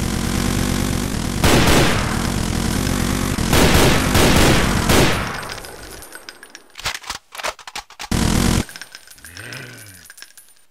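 Heavy rapid gunfire from bots in a co-op game of Brutal Doom, loud sustained bursts for several seconds, then scattered shots and short blasts with a warbling tone near the end.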